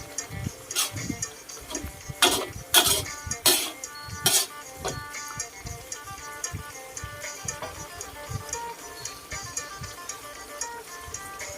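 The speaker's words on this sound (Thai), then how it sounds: "แล้วคนไปมาให้ใบมะกรูดฉีกกับพริกซอยกระจายไปทั่วๆกระทะค่ะ" Spatula stirring torn kaffir lime leaves and sliced fresh chilies through a wok of spicy pork-ball stir-fry, with sharp metallic clinks and scrapes, denser at first, then lighter steady scraping.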